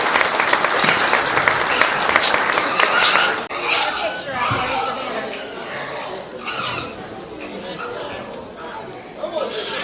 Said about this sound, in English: Let's give all those individuals a round of applause as they all exit the ring